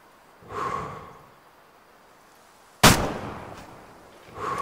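A single sharp rifle shot at a red deer in the hunting game Way of the Hunter cracks out loud and close, decaying over about a second, with soft breathy hisses before and after it.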